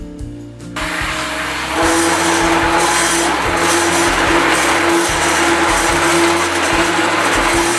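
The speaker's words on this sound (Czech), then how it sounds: "Až zmrzlý kvásek ve vodě povolí, pomůžeme mu ještě, rozmixujeme ho tyčkovým mixérem." A stick blender whirs through frozen sourdough starter softening in water, a loud steady motor drone with a rising pitch after the first second and rhythmic low churning throughout, no talking.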